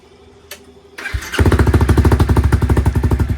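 A click and starter whir, then a Honda CBR300 with a new aftermarket exhaust, baffle removed, bursts to life and idles loudly with a raw, throbbing, unmuffled exhaust beat.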